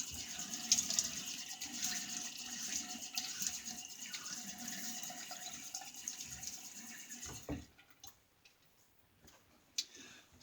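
Tap water running into a sink while a face is wetted for a shave, a steady close splashing rush with small drips, fading out near the end to quiet drips and a soft knock.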